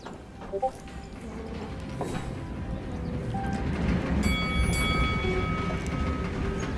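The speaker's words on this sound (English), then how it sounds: "Oh, look at this tram. This is beautiful." A tram rolling along in the video game Syberia The World Before, a low continuous rumble with faint rhythmic clatter that swells slightly, with brief chimes and tones over it.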